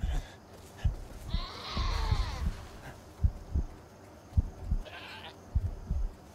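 Goats in Far Cry 5: Hours of Darkness, set in Vietnam, bleat a couple of times at a distance, wavering cries over soft thumping footsteps and quiet background noise.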